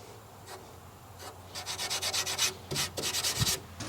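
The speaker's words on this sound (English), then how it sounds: "I also go ahead and rub the excess off, and then we'll sand it down later." Close, quick scraping strokes rub excess wood filler across a wooden planter box surface in rhythmic bursts, with short pauses between passes.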